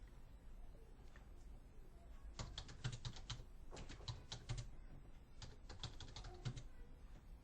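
Fingers type on a computer keyboard in clustered bursts of crisp, close clicks separated by short pauses, with faint room tone and no talk.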